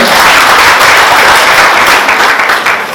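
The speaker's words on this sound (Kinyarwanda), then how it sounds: "Muri iki kiganza tugushimire n'amashyi menshi cyane." Wedding guests at a Rwandan ceremony give sustained loud applause, a thick continuous clatter of many hands that tapers slightly near the end.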